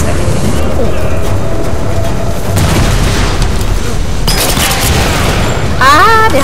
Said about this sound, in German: Kann man die auch gerade nochmal mit dem Kopfschuss erledigen.